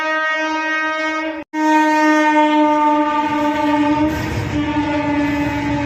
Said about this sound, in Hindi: ट्रेन आ गई है, सीटी बजा रही है, सीटी आ रही है ट्रेन की।